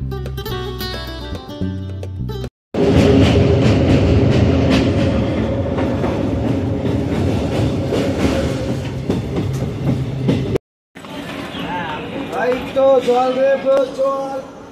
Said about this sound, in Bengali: সেই ব্যান্ডেল জংশনের 2 নম্বর প্ল্যাটফর্মে এসে দাঁড়িয়ে আছে আমাদের ট্রেন